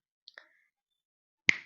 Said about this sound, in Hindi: उसके सामने कंगना चुटकी बजाती है